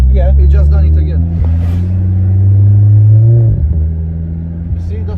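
Interior of a 500 bhp Volkswagen Golf R after a gearbox swap, engine droning loud and steady with a rising pitch, a harsh gear change near the middle, and voices talking over it.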